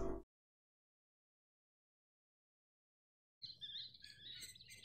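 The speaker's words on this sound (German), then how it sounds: "Warum auch immer Vögelchen zu hören sind." Birds chirp in Half-Life 2 after a brief sound and a long silence, a cluster of high, quick tweets arriving suddenly near the end and continuing faintly.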